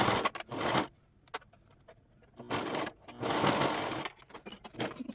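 A sewing machine stitches fabric for a skort pocket piece in short bursts of fast mechanical whirring, separated by quiet pauses with faint clicks and handling noises.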